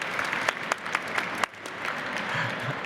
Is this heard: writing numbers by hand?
no